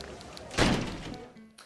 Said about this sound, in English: Shut that goddamn door.